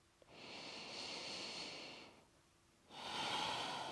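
Two long, audible exhalations during a yoga power flow, close and breathy, the second following a short pause after the first.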